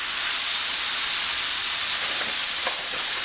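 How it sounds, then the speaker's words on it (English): Burger patties sear in a very hot pan with a steady, loud hiss and sizzle and faint crackles near the end, no talking. "while I'm waiting for my burgers to cook"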